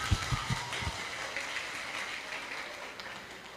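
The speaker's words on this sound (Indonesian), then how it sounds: "Beri tepuk tangan buat Bani Syahir." An audience at a junior high school graduation ceremony applauds, a soft, fairly distant patter of clapping that opens with a few stronger claps and slowly tapers off.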